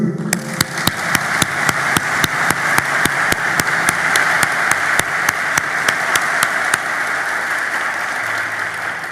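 A graduation-ceremony audience applauds its graduates with dense, steady clapping that stays loud and even for about nine seconds, with no voices on top.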